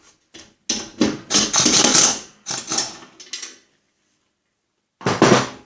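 Metal clinking and ratcheting from a 9/16 wrench spinning bolts off under the deck of a Snapper rear engine rider mower, several close bursts of clatter with short pauses between them.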